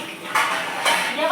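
Pots and kitchen utensils being scrubbed and washed by hand: close, steady abrasive scrubbing with two louder swells and faint metallic clinks.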